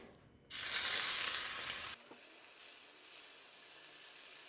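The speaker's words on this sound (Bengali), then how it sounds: "So while I do fry my fish" Fish frying in a pan gives off a steady, bright sizzle that jumps louder after a quiet start and then hisses on evenly, close by.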